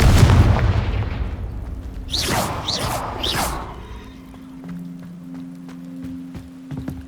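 Confringo blasting spell explosions in the video game Hogwarts Legacy: a heavy booming blast opens, followed by several sharp whooshing bursts that fade into a low rumble and ambient hum.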